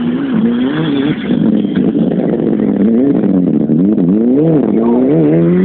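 A Mitsubishi rally car on a rally stage accelerates hard past the listener, its loud, close engine revving up and dropping repeatedly through gear changes for several seconds.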